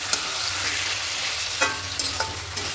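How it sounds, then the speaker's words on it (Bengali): Chicken pieces for a spicy chicken curry sauté in a pan, giving a close, steady sizzle with a few sharp scrapes and clinks of a spoon against the metal, and no talking. "ঢাকা দিয়ে চিকেনটা কষিয়ে নেব।"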